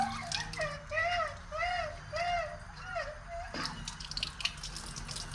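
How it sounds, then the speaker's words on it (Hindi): A tap squeaks with a repeating whine, then water starts flowing with a gurgling, splashing hiss. "ये पानी आ गया।"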